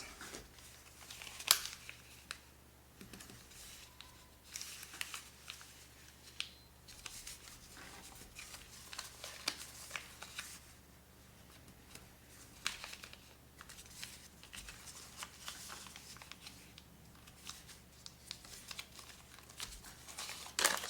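Paper is folded and creased into an origami scorpion, giving a steady run of close crinkles, rustles and sharp crackling creases with brief pauses between folds.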